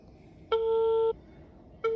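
A hotel room telephone in a Cancun resort gives a steady busy-signal tone while someone calls room service. One clear, loud tone lasts about half a second, then goes silent before the next tone starts.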